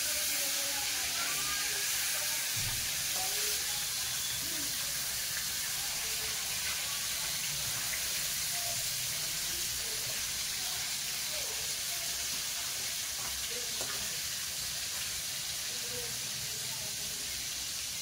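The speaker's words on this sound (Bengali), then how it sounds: "তেল ভালো গরম হয়ে যেত, মাছগুলো তো দিয়েছি একেবারে ভালোভাবে ভাজা হয়ে যাচ্ছে" Murrel fish frying in hot oil in a pan for a spicy curry, a steady bright hiss of sizzling throughout with small pops and crackles, fairly close and unbroken.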